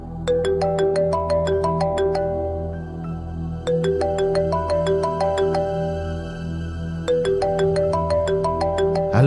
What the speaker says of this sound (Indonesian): terdengar ada suara telepon